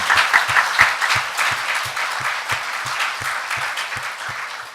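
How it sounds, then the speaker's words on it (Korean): A church congregation at a Sunday service applauds steadily, a dense wash of many hands that fills the room and stays fairly loud throughout, with a low regular thump beneath it. "박수 치면서 하나님께 찬송과 영광을 돌리겠습니다."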